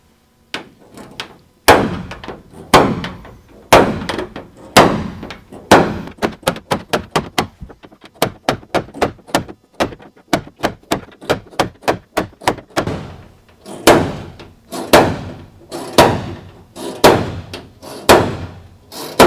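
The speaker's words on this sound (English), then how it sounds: "you pull the spring, you release, and it's going to put a hard divot into the metal" A spring-loaded center punch dents the sheet metal of a Mercedes Sprinter van: a long run of sharp, loud snapping thunks, first spaced out, then rapid and closely bunched in the middle, then slowing again, close and alone.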